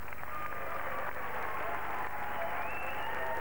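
A crowd at a 1982 professional wrestling bout applauds a move, giving a dense steady wash of clapping throughout, loud and continuous.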